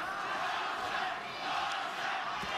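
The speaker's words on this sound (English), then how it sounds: "the majority of the crowd is on their feet and the chant of Loma has gone up here in New York" Boxing crowd in a New York arena during the 11th round of Lomachenko vs Pedraza, a dense, sustained roar of many voices chanting and cheering, loud and continuous throughout.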